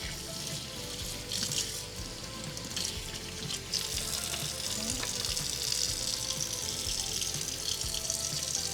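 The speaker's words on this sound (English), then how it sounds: "I'm going to go ahead and start my shampoo process by rinsing out this conditioner." Steady running water from a tap rinses conditioner out of curly clip-in hair extensions, a continuous close hiss with light splashing and no voices.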